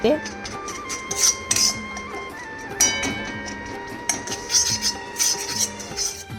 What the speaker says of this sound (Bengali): ময়দাটা দিয়ে এখানে খুব সুন্দর করে বাটারটার সাথে মেশাতে হবে